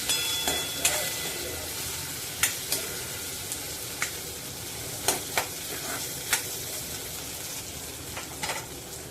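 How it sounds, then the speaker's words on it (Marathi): Potato cubes stir-fried with turmeric in a pan of amaranth curry, giving a steady close sizzle with repeated sharp scraping clicks of a spatula against the pan, with no talk. "बटाटा घातल्यानंतर तो भाजीमध्ये परतायचा आहे."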